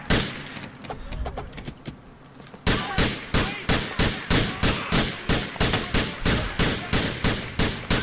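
Gunfire from a police shootout in GTA 4: after a quieter stretch, a rapid regular burst of loud shots repeats steadily, close and punchy.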